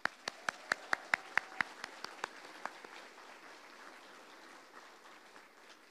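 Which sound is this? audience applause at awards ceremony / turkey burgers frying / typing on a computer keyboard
audience applause at awards ceremony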